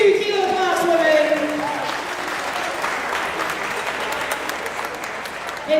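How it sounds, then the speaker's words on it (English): Applause from the crowd at the Scottish Powerlifting Classic Championships 2023 after the women's 52 kg class, a sustained even clapping under a loud announcer's voice. "Big round of applause there for our phenomenal 52 kilo class women."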